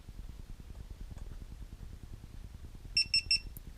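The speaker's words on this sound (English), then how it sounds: "you just heard the beeps, which means it just turned on the GoPro" Three quick high electronic beeps from a GoPro Hero4 powering on in a Karma Grip sound in succession near the end, following a soft steady mechanical whir.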